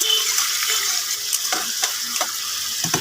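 Spice paste with a splash of water frying in a pan, soft continuous sizzle with occasional stirring scrapes and clicks, close up and without speech.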